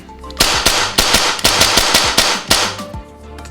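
A Hi-Capa 4.3 Battle Cat custom airsoft pistol fires about nine sharp, loud shots close by in quick, slightly uneven succession, with no talking between them.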